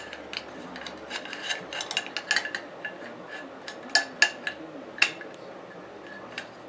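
Parts of a Mossberg 500 shotgun being put back together, with the elevator pressed into the receiver, give quiet, close metallic clicks, taps and light scrapes at an irregular pace.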